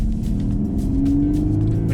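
A VW Golf R Mk8 engine gives a loud, continuous low rumble with a slight rising tone, heard close and steady without speech.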